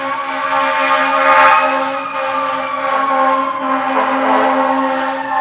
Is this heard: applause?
no